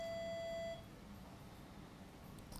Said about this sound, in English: does that alarm go off?